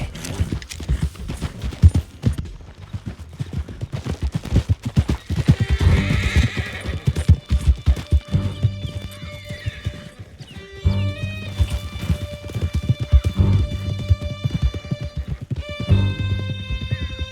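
Horses gallop in a steady, driving clip-clop with sharp whinnies breaking through, set in the Red Dead Redemption 2 video game during a canyon escape, layered over a loud, swelling orchestral score.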